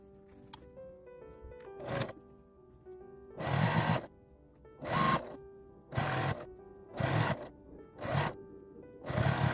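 A sewing machine runs an edge stitch along folded fabric while making a zippered coin-pass wallet bag, heard as six loud, buzzing bursts of stitching separated by short quiet pauses.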